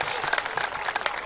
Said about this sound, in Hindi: एक बार तालियां बजाए जोरदार भाई साहब के लिए